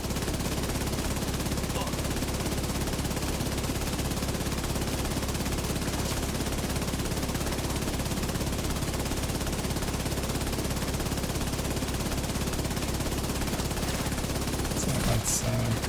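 Sustained automatic gunfire in a video game shooter, loud and unbroken for the whole stretch, with speech faintly under the shooting.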